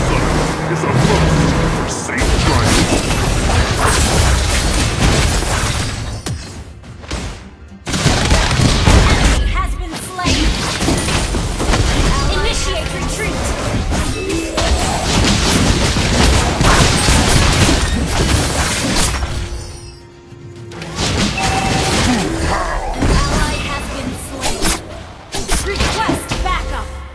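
Johnson's vehicular missile attacks in Mobile Legends, Fire skin, pound out as a long run of loud booms, crashes and rapid explosive bursts, with brief lulls and game voice lines mixed in.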